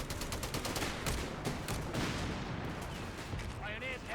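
Dense gunfire and rattling shots in a Company of Heroes 3 battle, continuous and fairly loud, with voices calling out over the fighting.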